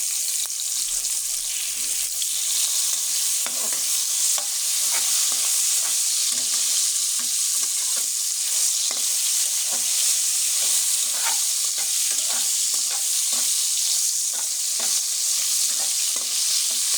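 Pointed gourd (potol) slices seasoned with salt and turmeric fry in a pan with a steady loud sizzle, while a utensil stirs and turns them in occasional scraping strokes throughout.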